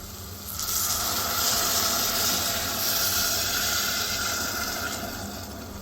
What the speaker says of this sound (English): Now you want to start adding vegetable stock.